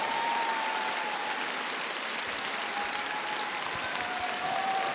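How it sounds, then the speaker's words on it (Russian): Arena audience applauds at a figure-skating show-program tournament: a continuous, even roar of many hands clapping, fairly distant and steady throughout, with no talk over it. "Ваши аплодисменты."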